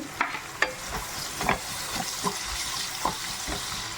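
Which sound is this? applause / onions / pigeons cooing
onions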